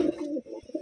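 Checkered pigeons held for sale give a close, low, throaty cooing in two or three rolling phrases, fairly loud with short pauses between.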